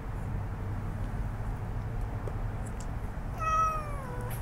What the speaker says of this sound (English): Why are you crying? Did you see that kitten?